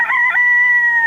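A single rooster crow, loud and close, with a rising start and a long sustained tonal call used to open a radio ad.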